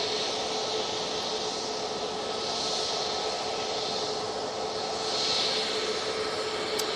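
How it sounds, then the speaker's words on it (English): A departing Easyjet jet at Manchester Airport, bound for Alicante, sends out a sustained engine roar with swelling whine that rises and falls in waves, fairly loud and without speech. "we're going to get this Easyjet that's been on the naughty step for a good old while departing."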